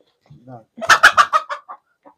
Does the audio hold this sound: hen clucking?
yes